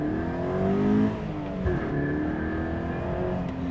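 A Toyota GT86 engine revved hard while driving, loud and close, its note sweeping and shifting pitch as it climbs through the gears, with no talk over it.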